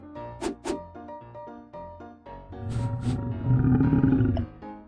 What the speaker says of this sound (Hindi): यह एक शेर है।